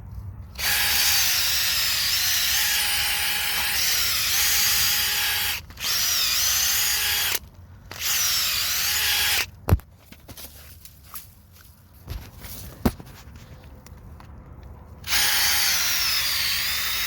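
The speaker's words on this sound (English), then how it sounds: "So we'll drill as many holes" Power drill boring holes into a tree stump, in several loud sustained bursts separated by pauses, with a few sharp knocks and handling clicks in the quieter gaps.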